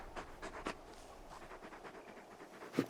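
A large dog pants in Final Fantasy XVI, a quiet, steady run of breathy huffs with a few stronger bursts, close and alone without talk.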